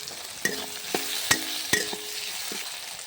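A chopped tomato goes into a pan of softened onions for a Bengali chicken kosha, with a steady sizzle and several sharp spoon scrapes and knocks against the pan, close by.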